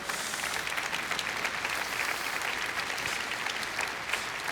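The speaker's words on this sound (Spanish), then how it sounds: "Puedes darle un fuerte aplauso a Él." A church congregation claps in a sustained, dense round of applause that holds steady and fairly loud from start to finish, with no talking over it.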